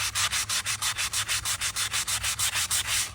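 Rapid, even strokes of a sanding block rubbing back and forth on a pencil stapler, close up, a steady rhythmic rasp repeating around five times per second.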